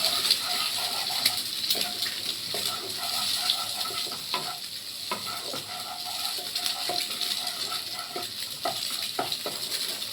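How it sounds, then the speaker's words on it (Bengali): An egg frying in a pan sizzles steadily up close, with faint clinks and stirring noises over the hiss. "আমি একটা ডিম আগে ভেজে নিই।"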